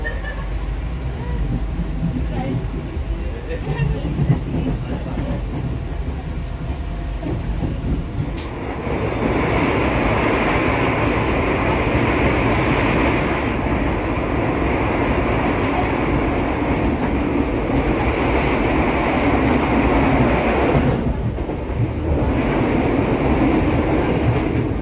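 A passenger train runs straight through Patukan, a small station just past Yogyakarta, with loud steady rumbling and rhythmic wheel clatter that grows heavier partway through and continues throughout.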